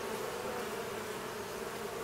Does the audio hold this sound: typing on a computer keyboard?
no